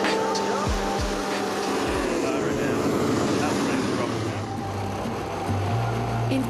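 A Flying Fish amphibious hovercraft's engine runs steadily on tarmac, a broad continuous roar with shifting low hum and wind-like rush throughout, while a person speaks over it.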